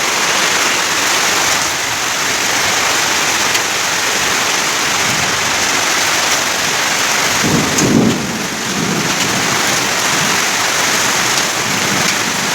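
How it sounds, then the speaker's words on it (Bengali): Heavy rain pouring down during a thunderstorm, a loud, constant roar of water hitting surfaces with a low rumble of thunder around the middle, close and unbroken. "এই যে দেখো কেমন নামতেছে জলে, বৃষ্টি ভরে গেছে জলে"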